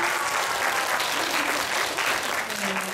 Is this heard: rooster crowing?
no